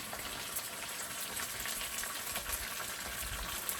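Chicken for karahi fries in hot oil with a steady, close hiss and crackle, scattered small pops rising over the continuous sizzle and no voices present.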